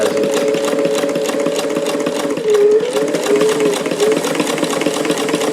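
Motorized antique Davis vertical feed long needle sewing machine, about 120 years old and running 15X1 needles, hums and whirs steadily at a constant loud pitch throughout.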